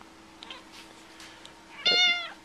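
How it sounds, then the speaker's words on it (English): A small house cat gives one clear, drawn-out meow close by. Before it, a few faint, softer sounds rise from a quiet room. "Little meower."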